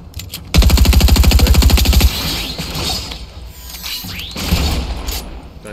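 Gunfire in Fortnite Battle Royale, including shotgun use: a loud, rapid, evenly spaced burst of shots, followed by a pause and two heavier blasts with mechanical clatter and a fading tail.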